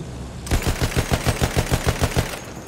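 A Battlefield 1 machine gun opens up after a short pause, firing a rapid, even burst of about sixteen loud, close shots before cutting off.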